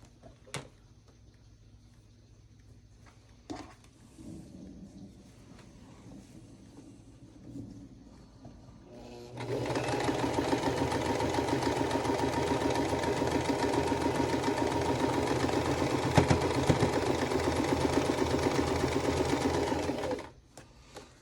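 Sewing machine stitching a quilt block for a vintage-style block-along, running steadily and loudly for about ten seconds after a quieter stretch of faint handling sounds.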